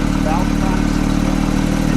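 A 2022 Porsche 911 GT3 Touring's sport exhaust drones deep and steady at idle, loud and close, with a faint higher whine briefly over it.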